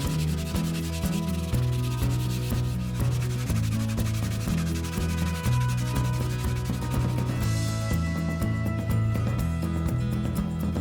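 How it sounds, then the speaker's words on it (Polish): Wooden stool parts being sanded by hand during a restoration, a steady rubbing scrape running continuously under a loud layer of background music with no talking. "Wszystkie elementy przeszlifowaliśmy jeszcze ręcznie, tak aby wygładzić wszelkie większe nierówności."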